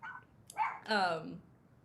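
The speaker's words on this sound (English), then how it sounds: "Oh, puppy." A puppy gives a couple of short, high yips and a bark close by, brief and fairly quiet, with a soft vocal sound just before them.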